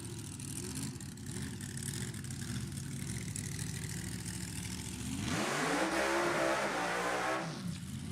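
A nostalgia drag racing car does a burnout at an NHRA Heritage Series event, its engine droning steadily before rising into a loud revving roar with tire squeal, then easing off, heard from a distance.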